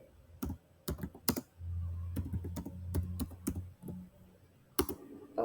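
Keys clatter in irregular bursts on a computer keyboard as a sudo systemctl command for starting Jenkins on an AWS EC2 server is typed, with a low hum running beneath part of the typing.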